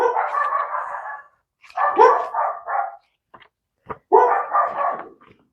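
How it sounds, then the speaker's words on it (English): Several dogs barking indoors in three loud, close bursts of overlapping yaps and bays, separated by short pauses. "My dogs are barking, I'm sorry."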